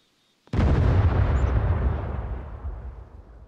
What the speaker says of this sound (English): Is he shooting the nade launcher at you?